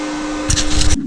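A flux-core welder tacks a thin metal seat bracket for an aluminum race seat: a short, loud, crackling buzz of about half a second rises over a steady background hum and then cuts off.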